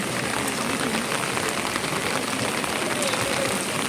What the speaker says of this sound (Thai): ตอนนี้ก็คือฝนตก